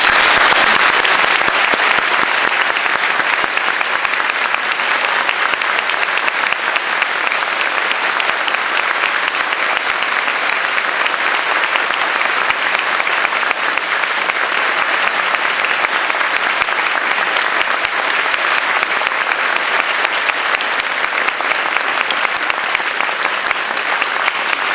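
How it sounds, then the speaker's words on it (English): A university lecture hall audience in Tokyo applauds Aung San Suu Kyi as she comes onto the stage, a loud, dense and sustained clapping that holds steady for the whole stretch without letting up. "Please give her a round of applause."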